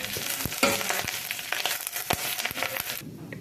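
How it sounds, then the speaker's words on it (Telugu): Moringa leaves fry with reddened onion and dried chillies in a pan, giving a close, steady sizzle broken by several sharp stirring scrapes before it drops off abruptly near the end. "ఉల్లిపాయ కొద్దిగా ఎర్రగా వేగాక మనం కడిగి పెట్టుకున్న మునగాకు మనం ఒలిచి పెట్టుకున్న మునగాకు వేసుకొని కొద్దిగా ఫ్రై చేసుకోవాలి"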